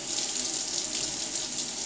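A razor is rinsed under a running tap: a steady, close hiss of water splashing into a sink, constant in level for the whole short stretch with no voices.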